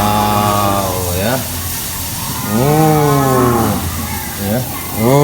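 Cattle at a small dairy farm mooing loudly and close by, several long drawn-out moos with rising and falling pitch one after another, over a low background hum.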